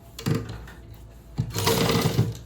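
A sewing machine stitches a farshi salwar in two short bursts, a brief whirring run, a pause, then a longer, louder run of rapid mechanical stitching close by.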